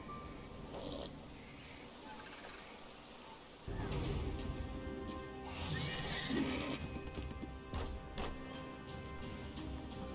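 Horse in the video game Child of Light whinnying and neighing, with hoof clops and battle music behind it, the calls rising louder in the second half.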